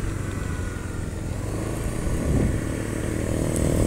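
A Honda Beat FI scooter engine, with compression leakage and weak pull, runs steadily with a low buzzing drone, rising slightly partway through, close and continuous with no talk.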